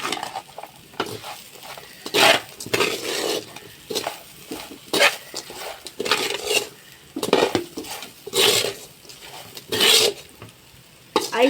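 A spoon stirs crispy raw banana fry in a metal pan, giving repeated scraping clanks in an uneven rhythm over a faint sizzle, close and fairly loud.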